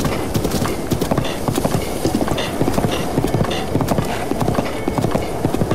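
Horse hooves clip-clop steadily in The Legend of Zelda: Breath of the Wild, a quick, continuous gallop rhythm heard up close over a dense game soundscape.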